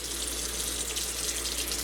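Water runs steadily from a household tap, a continuous close hiss and splash filling a sink, with no voices over it.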